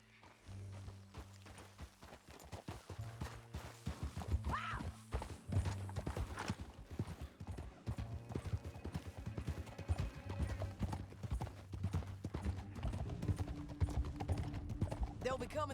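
A horse galloping in the video game Red Dead Redemption 2, steady clip-clop hoofbeats with a brief whinny, surrounded by game music and ambient effects, with voices speaking over parts of it.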